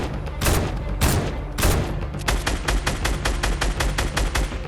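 Gunfire in the Fortnite video game, a few heavy single booming shots followed by a rapid evenly spaced burst of automatic fire, loud and close with no talking over it.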